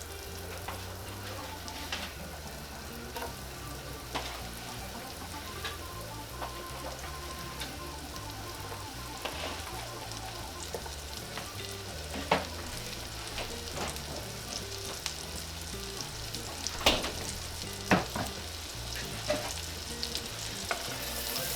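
Onion frying in three tablespoons of melted butter in a pan for garlic Tuscan salmon pasta, a constant crackling sizzle with scattered sharp pops and occasional utensil clicks, growing a little busier toward the end.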